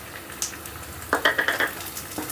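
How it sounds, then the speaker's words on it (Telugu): Finely chopped green chillies frying in a pan with ginger-garlic paste and onion pieces, a soft sizzle with a quick burst of stirring scrapes and clinks near the middle, close and clear. "ఈ పచ్చిమిర్చిని కూడా ఆ పచ్చివాసన పోయేంత వరకు ఒక నిమిషం పాటు వేపుకుందాం"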